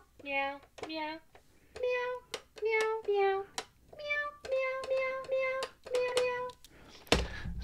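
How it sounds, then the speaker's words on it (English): A B-Toys Meowzik cat piano toy keyboard plays a rapid run of synthesized meow notes at different pitches, separated by short gaps and light clicks, ending in a sharp thump. "It is a B-Toys Interactive Cat Piano from, it's a Meowzik Cat Piano."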